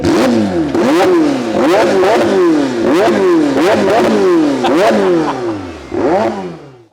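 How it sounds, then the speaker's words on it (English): A McLaren 720S supercar engine revs repeatedly through loud twin exhausts, each blip rising and falling in quick succession, close and aggressive, with no talking. "these massive twin tailpipes here, which sounds like this."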